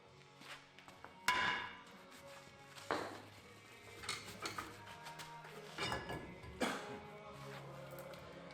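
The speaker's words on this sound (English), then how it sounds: "And just keep hammering. Eventually it'll come off." Rusty brake parts on a Ford F250 take repeated hammer blows, sharp metallic knocks at irregular intervals over a quiet background, a few louder strikes standing out.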